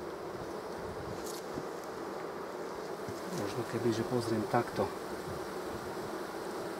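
Honeybees swarm around their hive during a queen release, a dense, continuous buzzing close by that swells with louder passes; someone speaks briefly over it.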